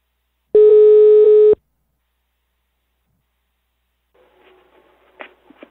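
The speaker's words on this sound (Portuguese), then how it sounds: "Eu vou ligar pra Gisalva" A telephone line tone sounds while a call is being placed: one loud, steady electronic beep lasting about a second. Silence follows, then faint, muffled line noise with a couple of brief clicks.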